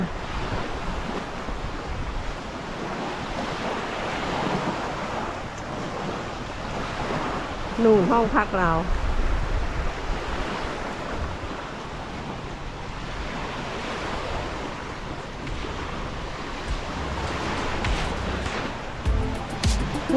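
Steady wash of surf rolling onto a shore at Hua Hin, Thailand, with wind noise, while someone talks over it throughout.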